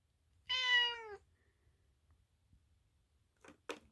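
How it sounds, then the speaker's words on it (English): A pet cat indoors gives one clear, close, tonal meow lasting about half a second, followed by silence and a couple of faint clicks. "What a little silly kitty."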